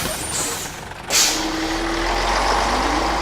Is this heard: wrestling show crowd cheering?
no